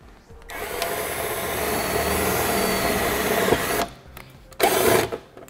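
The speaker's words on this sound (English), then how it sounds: "This is our self-tapping screw. We'll use a 1/4-inch nut driver on it." A 1/4-inch nut driver drives a self-tapping screw into trailer-wiring sheet metal with a steady, close power-tool whir that runs for several seconds, stops, then gives a short second burst.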